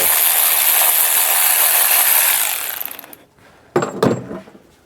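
Ratchet work on the oil pan bolts of a Mercedes automatic transmission under a lifted car: a steady, loud mechanical whirring for about three seconds that cuts off, then two sharp metallic clicks close by, no talking.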